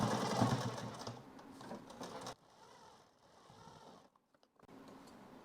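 A sewing machine stitching a blouse, a close, fast mechanical whirring run that stops abruptly, followed by softer quieter stitching and clicks after a brief pause.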